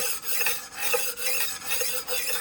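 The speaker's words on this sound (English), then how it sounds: "And now you'll hear the knife grinding away." A knife is drawn against a HONE rolling knife sharpener set on a cutting board, giving a steady raspy scraping with faint rhythmic swells, close and fairly quiet, with no talking.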